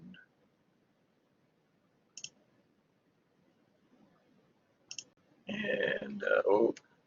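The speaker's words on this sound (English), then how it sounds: "So I click on the devices" Computer mouse clicks at a desk, two short isolated clicks spaced a few seconds apart in near silence, followed by a burst of louder clicking and handling noise near the end.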